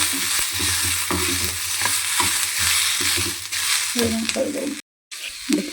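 Spices dry-roasting in a pan, with a steady broad crackle and hiss from near by and stirring scrapes at irregular intervals. The sound cuts out briefly near the end, then the stirring starts again.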